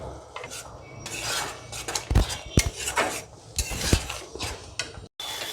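A spoon scrapes and clatters against a pan as paneer is mixed with tomato sauce, irregular metallic knocks and rasping strokes up close, with a brief drop to silence near the end.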